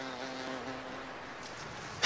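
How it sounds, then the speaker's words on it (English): A bee buzzes its wings at a steady musical pitch against a flower to shake loose pollen, a close, even drone lasting about two seconds before a brief louder burst at the end. "Now watch the bee do the same, hitting the middle C note with the beat of its wings"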